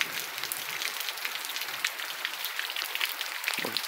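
Steady rain patters down in the Pernambuco sertão, Brazil, a dense hiss of drops on surfaces with scattered louder splats, continuous and fairly soft throughout.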